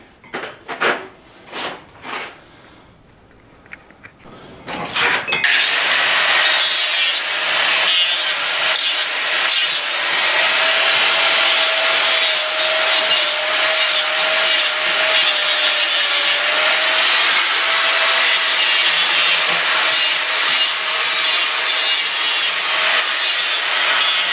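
Grinding weld off a steel tube for a Harbor Freight tire changer duck head mod: after a few scattered clunks, a loud, steady abrasive whine runs continuously up close, with no talking.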